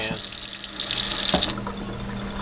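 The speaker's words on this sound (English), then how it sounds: "The next step is to completely soak the growing medium" Water pours steadily into a pot to soak a tomato growing medium, a continuous splashing gush at close range with some bubbling and gurgling.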